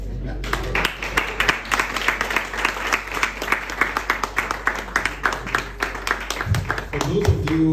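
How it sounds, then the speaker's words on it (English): An audience stands and claps at a World Cup bonanza launch event in Ghana, a dense, steady burst of applause filling the room at close range, with some murmuring voices underneath. "you will stand and clap."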